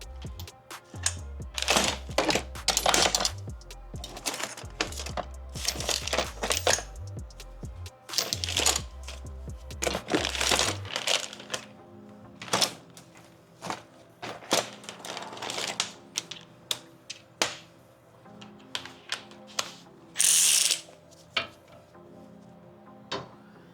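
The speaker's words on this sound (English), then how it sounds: "use your impact tools to take it out completely" Impact tool removing 15 mm caliper bracket bolts on a 2006–2009 Ford Fusion or Mercury Milan: loud, buzzing hammering bursts with a low rattling drone, then sharper clicks and clanks of tool handling.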